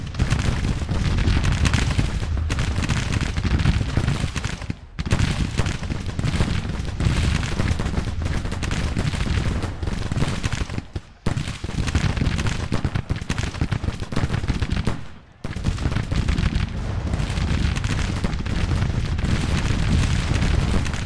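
Massed artillery and gunfire in the Civil War strategy game Grand Tactician, a continuous, loud barrage of booming and crackling shots that roars almost without pause, with only a few brief dips.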